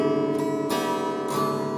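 Acoustic guitar chords strummed by an amateur player with no set melody, ringing steadily with a couple of fresh strums cutting in, close and fairly loud with no voice.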